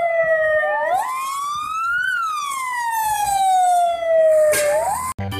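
A toy fire truck blares an electronic siren, its wailing tone sweeping up and down steadily and loudly throughout, close by with no talking.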